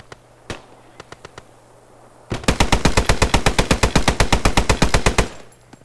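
A Vickers machine gun in the Post Scriptum game, defending Driel, cracks out a few scattered single shots, then hammers a long, steady, loud automatic burst of evenly spaced rounds that cuts off abruptly near the end.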